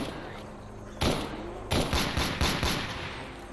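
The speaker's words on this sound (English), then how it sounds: "Someone's shooting at me, something interesting" SKS rifle fire in the video game STALKER, one loud shot followed by a quick string of several sharp reports, fairly close and ringing out over a low hissing background.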